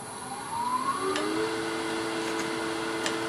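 A wood lathe spins up while turning a bowl, its motor whine rising in pitch then settling into steady humming tones, with a few faint scraping ticks from the cutting tool, nearby and uninterrupted by speech.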